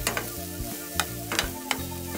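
Celery and onion frying in bacon fat in a pan for potato soup, a close crackling sizzle with quick stirring scrapes and clacks of a utensil, brief and without speech.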